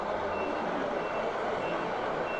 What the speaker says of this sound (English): Absolutely fantastic to see the trucks running.